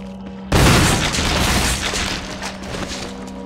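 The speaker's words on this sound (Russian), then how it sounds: "Граната." Grenade explosion in the zombie survival game Resident Evil HD Remaster: a sudden loud boom bursting in at once, then a rumbling, crackling tail that fades slowly over several seconds, with no talk.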